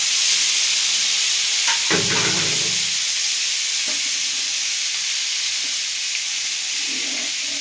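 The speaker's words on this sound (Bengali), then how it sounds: "এবার আমি চিকেনটা দিয়ে দিচ্ছি।" Chicken pieces frying in a pan over a low flame, a steady loud sizzle and hiss throughout, with a brief burst of crackling and stirring near the start as the meat goes in.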